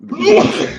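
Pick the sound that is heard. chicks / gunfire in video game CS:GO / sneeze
sneeze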